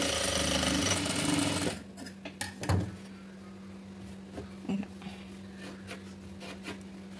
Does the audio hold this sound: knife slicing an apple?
no